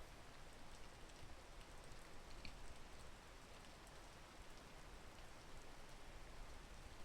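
Steady rain falls outdoors as a constant soft hiss of drops, faint and even throughout, with no voices.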